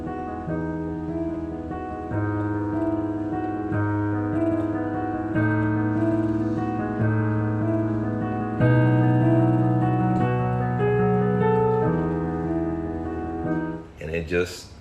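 Solo piano plays a song, repeating a four-chord progression with sustain pedal: full, ringing chords changing every couple of seconds under a simple melody, steady and close, ending with a small shuffle.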